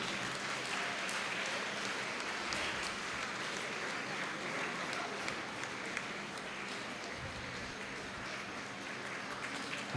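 Sustained applause from a gathered congregation at a church festival honouring a father (priest), a dense steady patter of many hands lasting throughout at even loudness.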